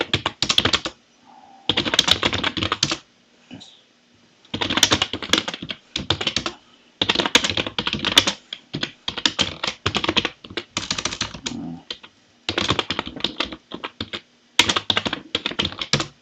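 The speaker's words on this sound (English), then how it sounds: "Just to prevent typing the password" Typing on a computer keyboard, close and crisp, in bursts of rapid key clicks separated by short pauses, with no talking.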